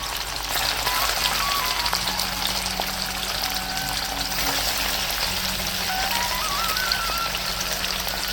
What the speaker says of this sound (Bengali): এক করে সব পনির আমি দিয়ে দিচ্ছি তেলের মধ্যে।